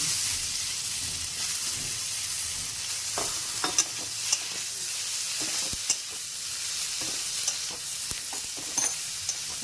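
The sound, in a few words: eggplant pieces frying in a pan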